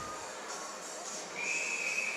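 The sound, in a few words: referee's whistle at a girls' hockey game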